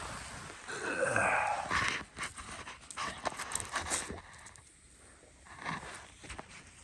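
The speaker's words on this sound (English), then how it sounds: "Did you hear the dog bark?" A dog whimpers and pants close by, with short breathy puffs and faint shuffling; a brief louder burst sits near the middle.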